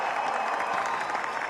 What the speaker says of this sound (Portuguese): e o público aplaude